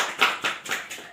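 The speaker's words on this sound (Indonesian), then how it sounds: "tepuk tangan untuk Christina" A class of schoolchildren claps for a classmate, a short burst of four or five quick, uneven hand claps at close range.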